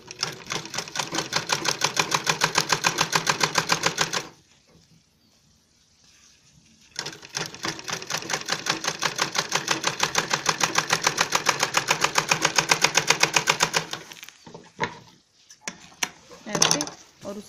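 A sewing machine stitches fabric for a designer bag at home, running in a long steady rapid burst, pausing briefly, then running again for several seconds before stopping with short bursts; someone talks in the background.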